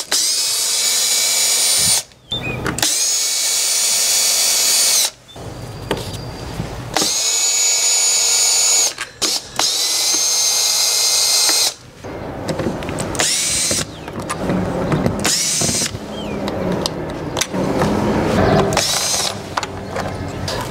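A power drill unscrews old fittings from a PVC window frame in loud bursts of high whirring separated by short pauses, followed by clattering, ratcheting and handling of metal hardware up close.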